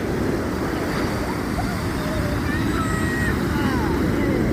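Ocean waves roll in and break at Sokcho Beach in Gangwon-do, a loud, continuous wash of surf with constant wind rumble on the microphone.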